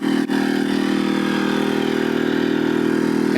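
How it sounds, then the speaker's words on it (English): An RV generator, with an EasyStart 364 installed, on a Geo Pro 19FBS trailer runs wide open, giving a loud steady mechanical drone with an even hum and no change over the few seconds heard. "you can hear the generator is running wide open"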